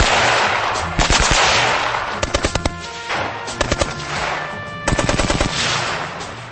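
A machine gun firing at a tree: loud bursts of rapid rounds in repeated short strings, each burst a tight rattle of shots over a steady roaring background, close and forceful.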